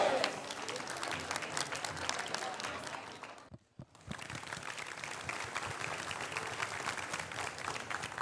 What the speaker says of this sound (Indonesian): mana tepuk tangannya masyarakat Desa Kuku